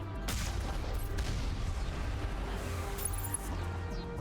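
Gunfire in Mass Effect 1 on Virmire crackles in a steady, rapid stream of shots, moderately loud and continuous for the whole span, with a few sharper cracks standing out.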